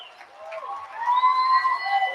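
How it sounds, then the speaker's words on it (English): A college baseball crowd at a UC Santa Barbara vs Hawaii game cheers and shouts after a two-out double, a sustained roar of voices that swells and holds over about two seconds. "Listen to this crowd."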